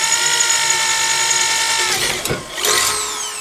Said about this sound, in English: when these drill bites are flying, drilling is going nicely